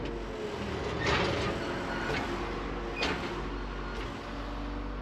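A used excavator lifting a vehicle, heard as a steady diesel engine and hydraulic drone that holds throughout, with brief swells of effort and a few short metallic creaks.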